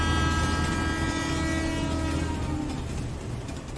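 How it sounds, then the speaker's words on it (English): A train sound-effect stinger rumbles loudly with sustained horn-like tones and heavy low rolling noise, steady for several seconds before the horn fades. "And this one is simply titled Train."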